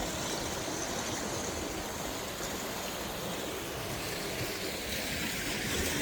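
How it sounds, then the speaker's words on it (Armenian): Sewage water gushing forcefully from a sewer pipe into a river, a loud, steady broadband rush of churning water that continues unbroken throughout, with no other sounds above it. "Մեծ թափով է կեղտաջուրը լցվում է։"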